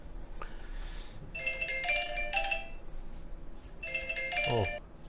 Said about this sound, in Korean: 다른 데 전화 와가지고요